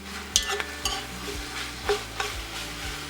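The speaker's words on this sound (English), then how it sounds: "Now I'm going to add in all of my wonderful Italian sausage, and we're going to blend that in with the onions and the celery and the garlic" Italian sausage fries with onions, celery and garlic in a pot for minestrone soup, giving a steady close sizzle broken by several scraping stirs of a utensil.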